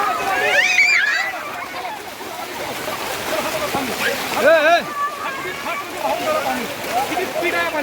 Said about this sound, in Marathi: हा बघा किती फास्टमध्ये पाणी चालले वाहत